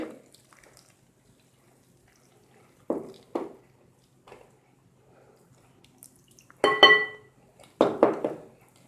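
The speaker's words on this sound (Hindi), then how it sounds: "अब पानी डालते जाते हैं और इसका बैटर बनाएंगे।" Water poured into besan batter in a bowl while mixing, heard as a few short splashy pours and sloshes separated by quiet gaps, close and clear.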